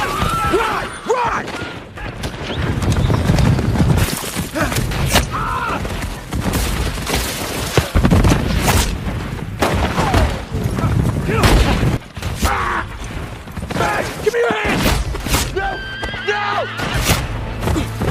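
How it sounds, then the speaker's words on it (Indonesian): A western film's soundtrack carries gunfire in bursts amid horse whinnies and clip-clop, with loud sharp cracks scattered across a busy mix of action sounds. "muncullah tembakan yang membuat satu anak buah Dan Red tewas"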